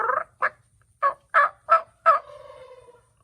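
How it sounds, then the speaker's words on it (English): A young wild turkey gobbles in a quick run of six short, sharp bursts, ending in a longer drawn-out warbling note, fairly close and clear. "that little one's got a nice gobble, doesn't he?"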